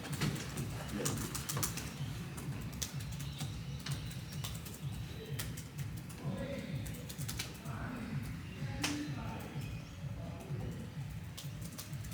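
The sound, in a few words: typing on a computer keyboard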